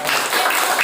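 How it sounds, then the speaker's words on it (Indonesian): A classroom group claps briefly together, a short burst of dense hand claps that is close and fairly loud. "Tepuk tangan."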